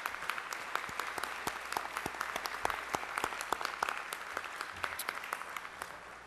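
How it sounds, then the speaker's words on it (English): Dinner audience applauding its sponsors: a crowd claps steadily for about six seconds, dense and moderately distant, tapering slightly at the end. "So could we please give a round of applause for all of our sponsors?"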